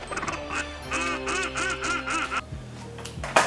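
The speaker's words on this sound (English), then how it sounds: "Why the heck are there so many birds flying over?" Several ducks quacking in loud, rhythmic bursts as birds fly over a kitchen, the calls repeating for a few seconds before fading, followed by a few scattered lower noises.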